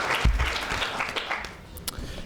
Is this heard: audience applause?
yes